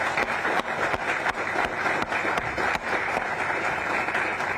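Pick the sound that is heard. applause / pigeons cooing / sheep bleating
applause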